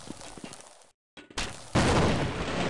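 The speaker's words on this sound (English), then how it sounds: "I bet you I can grenade it." Grenade explosion in the video game Half-Life, a sudden loud burst of game noise after a brief silent gap, followed by a sustained roaring blast that keeps going to the end.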